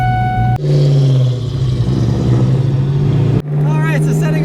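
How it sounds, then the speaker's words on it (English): A 1992 Ford Mustang GT with a manual clutch pulls away, its engine droning loudly and rising in pitch between gear changes, with someone talking over it. "setting off in the 1992 Ford Mustang GT"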